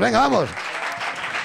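Studio audience at a live comedy show bursts into dense clapping and cheering right after a shouting voice, the applause filling the rest of the moment at a steady, fairly loud level.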